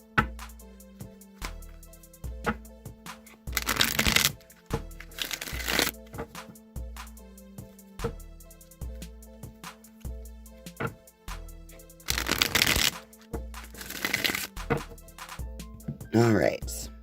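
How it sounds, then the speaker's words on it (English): A Rider-Waite tarot deck is shuffled in several bursts of riffling and shuffling cards, between stretches of quieter handling with a steady rhythmic tapping underneath. "I'm going to go ahead and shuffle the Rider-Waite deck now"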